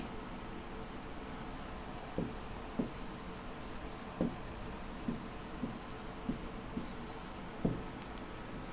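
A pen writes an IP address by hand in a quiet room, making soft scratching strokes with a few sharper taps as digits are formed, faint and close, with no talk.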